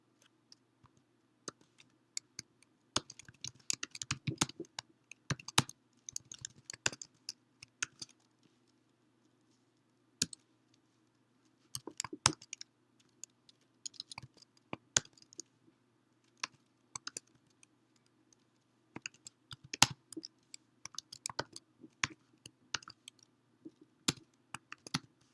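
Typing MATLAB code on a computer keyboard, soft close key clicks in irregular clusters and short runs with pauses between, over a faint steady hum.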